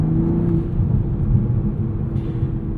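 A 2024 Toyota Supra MK5 45th Anniversary Edition with a 6-speed manual, exhaust valve open in sport mode, rumbles low and steady from inside the cabin while driving, a deep continuous drone with a faint tonal hum.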